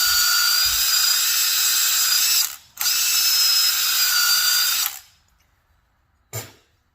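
A power drill whines steadily at high pitch for about five seconds, with a brief break in the middle, then stops, followed by a short knock, near and loud, used while working on an abandoned Ford 8N tractor.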